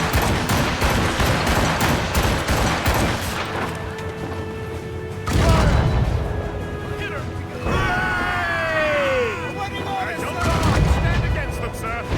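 Ship cannons fire in the naval battles of Assassin's Creed Rogue with heavy booming blasts over a dense wash of battle noise, music and shouted voices, a deep impact near the middle and more rumbling volleys toward the end.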